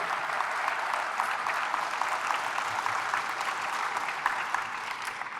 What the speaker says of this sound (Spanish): Fuertes aplausos al Señor por su amor y su misericordia.